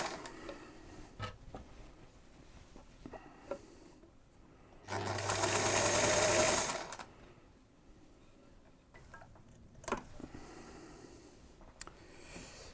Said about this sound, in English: sewing that in a straight line is very, very difficult. It wants to wander all over the place